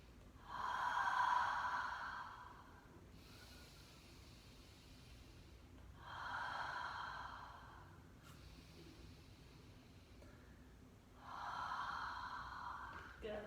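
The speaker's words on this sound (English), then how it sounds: "So just take 3 breaths here." Three slow, deep breaths during a yoga stretch, each a long airy rush lasting about two seconds, with quiet pauses between them, close to the microphone and fairly soft.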